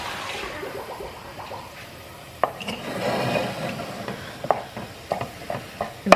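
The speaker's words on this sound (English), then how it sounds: "I'm going to go ahead and mix this around" A spoon stirs a pot of baked beans mixed with a little ground beef, giving soft wet squelching and scraping with a few sharper knocks against the pot, fairly close and with no talking over it.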